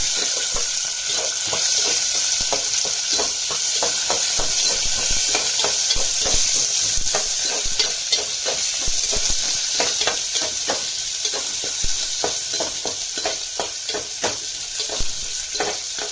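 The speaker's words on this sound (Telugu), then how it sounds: "వాము బాగా వేగాక కరివేపాకు, ఎండుమిరపకాయ, ఉల్లిపాయ, పచ్చిమిరపకాయ ముక్కలు వేసుకోవాలి." Curry leaves, dried chillies, onion and green chillies fry in oil with ajwain, giving a steady bright sizzle close up with frequent scraping stirs throughout and no talking.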